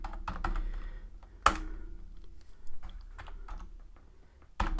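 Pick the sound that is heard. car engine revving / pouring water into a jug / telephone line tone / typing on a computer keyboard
typing on a computer keyboard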